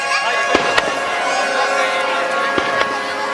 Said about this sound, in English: Hear the fireworks starting to go off in the background.